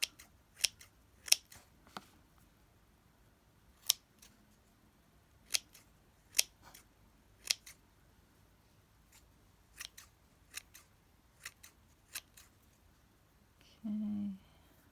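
Scissors snip through scrap fabric in a quiet room, a dozen or so crisp, close cuts coming in irregular bursts with short pauses between, with a brief low hum at the very end.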